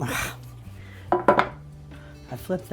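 Freshly baked bread loaves knocked out of hot metal baking pans, a few sharp metallic clanks and thumps in a quiet kitchen, with someone speaking briefly before them.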